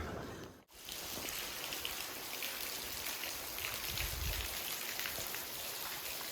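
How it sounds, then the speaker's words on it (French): Steady rain falls in the Carpathian mountains, a dense, even patter of drops on surfaces that continues unbroken and fairly loud, with a brief dropout near the start and a low rumble partway through. "la météo de l'autre côté, c'est pas terrible. Il pleut."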